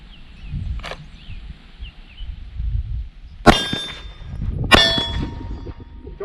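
Glock pistol shots ringing steel targets: two sharp reports, each followed by a bright metallic clang that rings on, heard over faint outdoor background with a few bird chirps.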